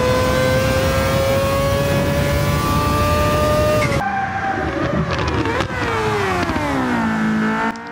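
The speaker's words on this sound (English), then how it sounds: "we can just hear that R26B engine screaming behind us" A Mazda 787B's R26B rotary engine screams at high revs in Gran Turismo 7, pitch sliding down and climbing again as it shifts, loud and up close without any voices.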